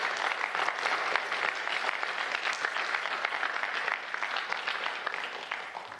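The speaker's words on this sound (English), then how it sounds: "Can we have one more round of applause for our Cadet Honor Society inductees?" An audience at a cadet pinning ceremony applauds Cadet Honor Society inductees, a loud, dense and steady round of clapping that carries on for several seconds with no talking.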